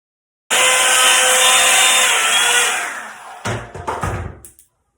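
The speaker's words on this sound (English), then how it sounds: "if you just blow dry it on cool air in a few different directions, it just helps with like movement" A hair dryer on cool air blows in a loud, steady whoosh for a few seconds, fading as it is moved, followed by brief rustling and handling noises before it stops.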